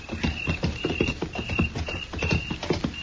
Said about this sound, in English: Chester, Don't look. Just ride straight ahead.